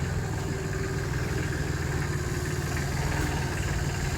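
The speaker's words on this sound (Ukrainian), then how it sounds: "Є, ось тестують 26-ту соліса люди собі." A Solis 26 mini tractor engine runs at a steady idle outdoors, a continuous loud, even diesel rumble with no pauses.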